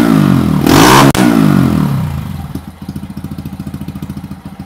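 A 2021 Honda Monkey fitted with a Yoshimura Cyclone exhaust blasts up to full throttle in one loud, close rev, snaps off, then drops back to a lumpy, pulsing idle.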